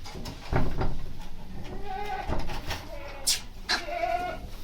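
Goats bleat repeatedly nearby as they come to a salt lick, several wavering calls overlapping, with shuffling and rustling noises in an open outdoor setting.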